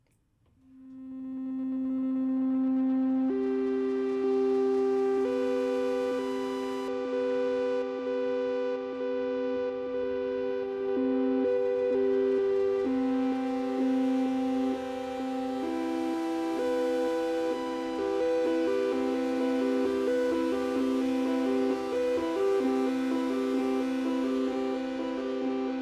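A Roland SE-02 monophonic synthesizer plays a sustained pad patch, smooth held tones gliding between pitches in a slow, continuous line, clear and unaccompanied with no voices.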